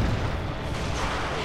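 Flak Panzer firing in the video game Company of Heroes 2, a dense, loud, booming burst of artillery-like blasts that fills the whole short moment.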